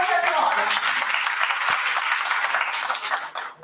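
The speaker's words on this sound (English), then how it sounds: "Please give us our applause." Audience clapping fills a hall at a life sciences research conference, a sustained burst of applause that fades out near the end.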